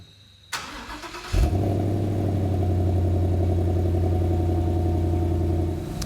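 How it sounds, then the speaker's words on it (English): A 2015-2017 Mustang GT fitted with a Roush axle-back quad-tip exhaust, block-off plate in place, cranks and fires up, then settles into a steady, deep, rumbling idle close by. "Definitely a deeper tone at idle."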